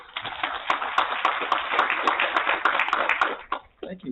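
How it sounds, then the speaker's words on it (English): A festival audience claps to welcome a presenter on stage, a fairly loud burst of mixed handclaps with sharp individual claps standing out, dying away into a few scattered claps at the end. "Big round of applause for Bruce."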